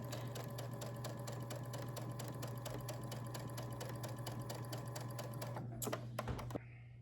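A sewing machine runs steadily while stitching quilt fabric for a Dr. Seuss–themed quilt top, a fast even mechanical chatter with a constant motor hum, stopping abruptly near the end with a couple of clicks.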